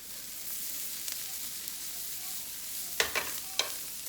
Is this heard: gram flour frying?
yes